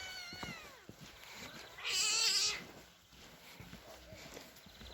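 A cat yowls loudly in a drawn-out, wavering cry, with softer meows before and after against quiet outdoor background noise.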